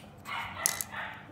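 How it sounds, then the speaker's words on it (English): A dog barks a few times indoors, fairly faint and brief, the yips rising sharply over a quiet room with a child's LEGO fire station set being assembled. "Sorry, that's my dog."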